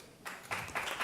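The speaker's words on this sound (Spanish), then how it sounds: "No es que os quiera cortar los aplausos," A seated audience claps after a talk at a conference on accessibility of cultural and natural heritage, with scattered, fairly faint applause rising in three short swells and no voices.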